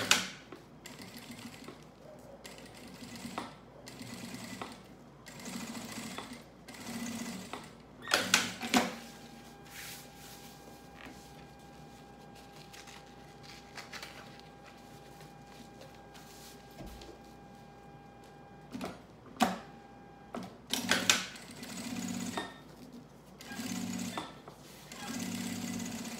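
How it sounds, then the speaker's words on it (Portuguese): Sewing machine running a seam all around a fabric piece to attach its lining, in several bursts of fast, steady stitching separated by pauses and a long quieter stretch, close and clear with no talking. "Então tá aí uma costura em toda a volta, só pra gente prender o forro aqui na peça."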